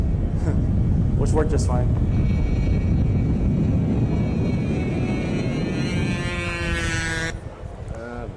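A model flying-car airplane with steerable main gear in flight, its engine droning steadily and loudly under a voiceover before the sound drops off near the end.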